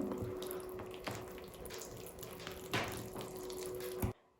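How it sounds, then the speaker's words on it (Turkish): Lukewarm water pours steadily into a bowl of dough mixture for soft pogaca, a continuous close trickle with a couple of light knocks before it stops abruptly. "3 su bardağı ılık suyumu yavaş yavaş ilave ediyorum"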